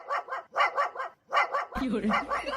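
Pet dogs bark in quick repeated bursts, two or three yips at a time in short runs, fairly close and loud, with a lower rumbling noise joining near the end.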